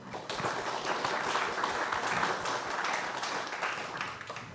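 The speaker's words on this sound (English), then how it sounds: "Can we have a round of applause for this collaboration?" A round of applause fills a morning ceremony hall, with steady clapping from a crowd for several seconds that holds at an even level, then eases slightly toward the end.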